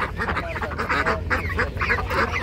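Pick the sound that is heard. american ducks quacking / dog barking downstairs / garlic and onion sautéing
american ducks quacking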